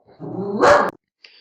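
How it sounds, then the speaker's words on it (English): A dog barks once indoors, a loud, close, growly bark rising into a sharp burst before cutting off, followed by a faint short sound. "excuse my dog."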